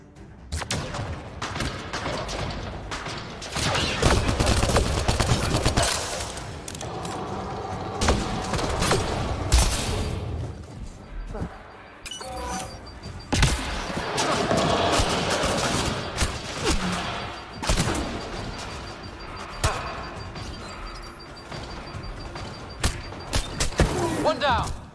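Sci-fi shootout gunfire in the video game Mass Effect Andromeda, dense loud bursts of shots and impacts with continuous combat clatter, mixed with voices calling out over the action.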